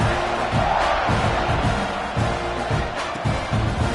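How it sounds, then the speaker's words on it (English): A stadium crowd roars and cheers in the College Football 26 video game, featuring Texas A&M, a dense, continuous wall of noise with rhythmic surges and no clear voice on top. "this crowd is feeling themselves after that last drive"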